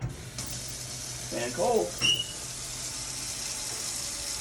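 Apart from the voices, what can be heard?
sink filling with warm water from the tap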